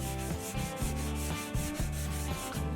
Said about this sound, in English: just an extra little step to ensure a bit of quality in your project by sanding them bits out